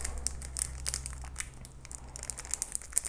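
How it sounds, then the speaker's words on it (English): Plastic packaging from a diamond painting kit crinkles and crackles as it is opened, with irregular rustling bursts over about three seconds under a low steady background hum, without any voice. "Excuse the crackling for a minute."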